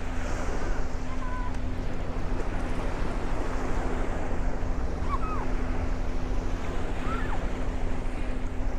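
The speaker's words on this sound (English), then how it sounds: "look at the ocean coming up on the sand" Ocean surf washes up on the sand at the Coney Island beach in Brooklyn. The waves rush in a continuous wash, heard close and fairly loud under buffeting wind noise on the microphone.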